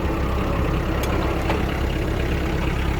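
Kubota X-20 Japanese mini tractor with half-cab and 20 hp engine running steadily, a continuous loud broadband engine drone with no talking.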